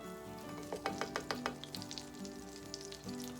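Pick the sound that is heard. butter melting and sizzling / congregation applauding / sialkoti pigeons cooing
butter melting and sizzling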